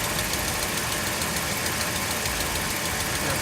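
Dodge Ram with a Hemi engine idling with a ticking, steady and close, a constant mechanical hum with faint rapid ticks throughout and no talk.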